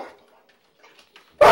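A leashed dog in a training setting lets out a single sharp, loud bark right at the end, following a near-silent stretch with faint rustling.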